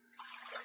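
A cup of water is poured into a pressure cooker holding pork ribs, a brief close splashing pour lasting under a second.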